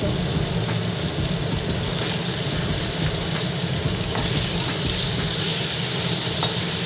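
Cut potatoes fry in oil over a cumin-seed tempering for a fish curry, producing a loud, continuous, close-up sizzle and bubbling hiss that stays even from start to finish without voices.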